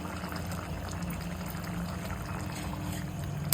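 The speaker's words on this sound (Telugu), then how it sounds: "ఇప్పుడు చింతపండు పులుసు వేసుకుంటున్నాను" Tamarind juice is poured into a simmering Andhra-style drumstick and tomato curry, making a steady liquid pour and bubbling that continues without a break.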